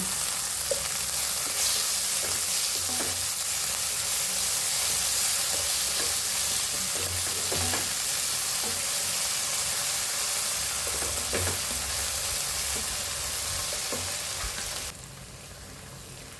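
Green chillies and curry leaves sizzle and crackle in hot oil for a Kerala squid roast, a steady close frying hiss with occasional stirring clicks, no talking, ending with a sudden quieter tail.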